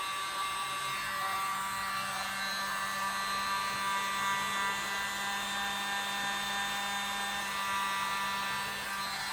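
Small electric blower pushing air over metallic pour paint in silver, pewter and cobalt blue, a steady high whirring hum with a tonal whine, constant and fairly quiet throughout, no voices.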